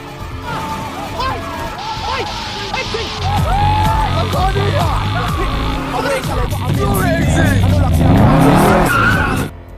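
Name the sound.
stolen car driving off fast in a film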